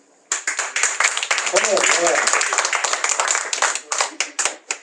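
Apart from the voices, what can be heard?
audience applause at a comedy show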